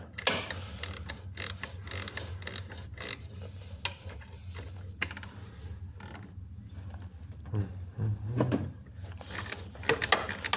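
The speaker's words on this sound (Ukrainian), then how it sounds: "Я того болта відкручую і ремінь послаблюється. Я таким ключиком трещоткою." Ratchet wrench loosening the alternator bolt on a Renault Kangoo 1.9, heard as irregular close clicks, creaks and metallic clunks in short bursts over a low background hum.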